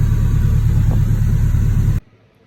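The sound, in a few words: car engine running during heat cycle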